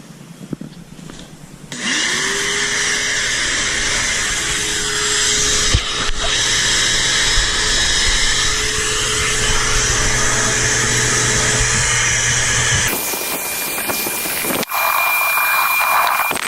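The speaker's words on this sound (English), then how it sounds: "Let's hit it with the vacuum, see what we can pull up." A wet vacuum pulls foam cleaner out of a dirty carpet, its motor starting with a rising whine and then holding a loud, steady roar before cutting off.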